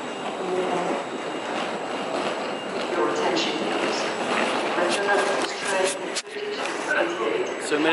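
Passenger train between Venice and Rome, heard from inside a carriage: a continuous rumbling ride with rattles and occasional clicks, and people talking over it.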